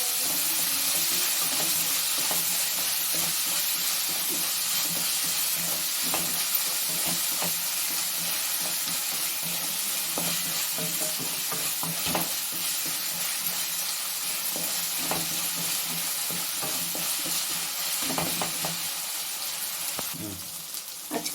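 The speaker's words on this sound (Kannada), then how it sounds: "1 ಟೊಮೆಟೊ ಸ್ವಲ್ಪ ಫ್ರೈ ಆಗಲಿ." A tomato fries and sizzles in a pan for a mushroom butter gravy, with a continuous hiss broken by scraping stirs and the occasional clink of a spoon, close up and steady for about twenty seconds.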